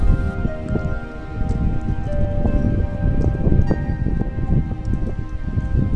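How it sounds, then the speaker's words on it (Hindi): Wind blows steadily in the open desert of a national park, a continuous rough rustle and buffeting across the whole stretch with faint tonal hum beneath and no talking. "लेकिन हवा चल रही है।"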